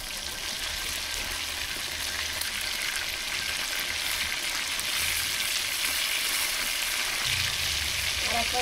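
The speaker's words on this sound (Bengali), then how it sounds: "আর এক পাশ ভেজে নেবো ভালো করে" Chicken pieces for biryani, flipped to brown the second side, fry in hot oil with a steady dense sizzle and crackle, a few stirring scrapes toward the end.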